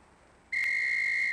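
A shrill, steady whistle signal from the police tactical game Police Quest SWAT sounds loud and alone, holding one continuous tone for under a second after brief quiet.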